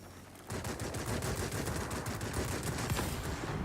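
The guns of an F4U-4 Corsair fighter in World of Warplanes open up in a long continuous stream of rapid fire. The rattle is loud and steady and begins abruptly after a short quiet lead-in.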